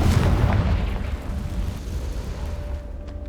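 A fiery explosion from the Confringo spell in the Hogwarts Legacy game, a loud close boom that hits at once and then fades into a rumbling decay over a few seconds.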